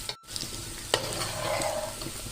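Eggs stir-frying in a hot pan for egg fried rice, a continuous sizzle broken by a brief pause and then a sharp scrape of the spatula before the frying resumes, close and clear with no talking.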